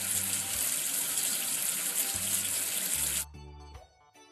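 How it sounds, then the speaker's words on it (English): Water from a kids' counting game gushes steadily like a running tap for about three seconds as soap is washed off a number figure, then cuts off abruptly, leaving a short trickle and soft game sounds. "Wash away the soap with water."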